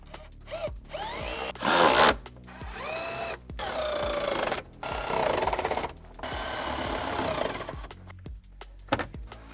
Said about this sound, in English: And then we put all the screws back.